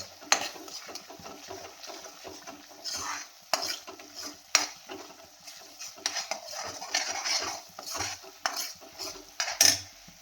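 Spices fry in a pan as a tempering for mixed vegetables, while a spoon stirs and scrapes repeatedly, with clinks of metal on metal over a steady soft sizzle.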